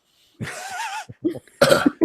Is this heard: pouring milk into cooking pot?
no